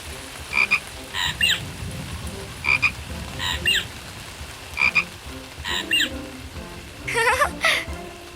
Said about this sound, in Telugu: కప్పతో ఆడుతూ వానలో ఉన్నారా బుజ్జి టూకీ ప్యారీ?